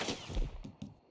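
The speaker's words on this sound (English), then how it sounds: "Why? Why am I getting shot at?" Short burst of gunshots aimed at the player in Red Dead Redemption 2, two or three sharp cracks in quick succession after a louder opening blast, heard briefly without talk.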